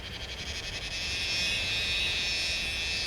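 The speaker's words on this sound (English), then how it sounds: "The piercing sound of the cicada apocalypse is about to take over parts of the eastern United States" A continuous, piercing chorus of cicadas in the eastern United States, a dense steady drone with a shimmering pulsing texture that swells in the first second and then holds loud and unbroken.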